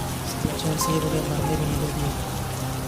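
Steady rain falls on a bridge about twenty feet above a flowing river, making a dense, even hiss that fills the whole stretch without a break.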